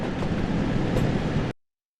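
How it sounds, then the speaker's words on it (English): Steady rumble of an LMS Stanier Class 8F steam locomotive in BR black livery in Train Sim World 3 on the Liverpool to Crewe line, a continuous rolling roar that cuts off abruptly. "how to drive an LMS Stania Class 8F steam locomotive in BR Black livery"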